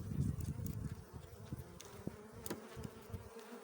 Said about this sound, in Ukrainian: Бджола трошки агресивна.